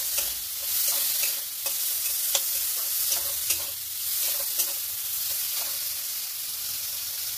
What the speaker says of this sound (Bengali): এবার দিয়ে দিলাম নুন দিয়ে আবার একটু ভালো করে কষিয়ে নিয়ে